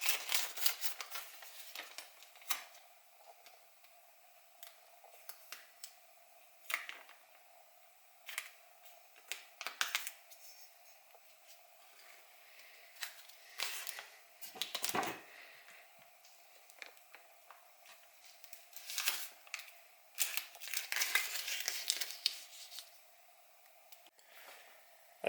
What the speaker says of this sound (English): I just got some blue painter's tape here.